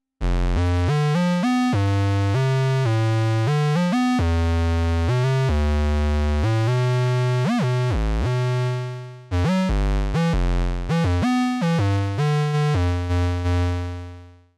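A clean, buzzy monophonic analog synthesizer, Roland SH-101 or Elektron Analog, plays a single-note melodic line, notes rising and falling in quick phrases with a short pause midway before it continues.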